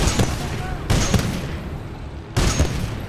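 Gunfire in Titanfall 2, a first-person shooter campaign, comes in three loud bursts of rapid shots about a second apart, each tailing into a lingering rumble, with no talk over it.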